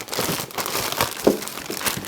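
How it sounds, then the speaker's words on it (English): A plastic bag crinkles and rustles close by while a newly arrived tool is unpacked, with irregular bursts of crackling and a sharper crunch partway through, and no talking. "you can't get the plastic bag off until you lift it out"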